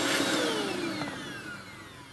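A Eureka vacuum cleaner running in a very dirty house, a loud close whine whose tone sweeps downward as the motor settles, steady airflow roar underneath, no talking.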